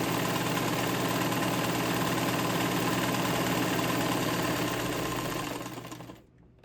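A Montgomery Ward Signature UHT J260F sewing machine runs at steady high speed with a smooth, continuous whirring hum and rapid needle chatter, close and even, then slows and stops at the end.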